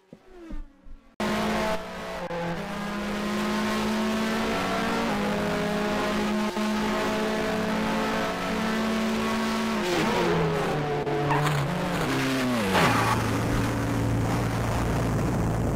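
Race cars from the 1990 mod of the Grand Prix 2 racing game roar steadily at high revs for most of the run, pitch climbing and dropping through gear changes near the end, with no talk over it.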